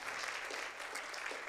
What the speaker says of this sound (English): Let's give the Lord a clap offering tonight.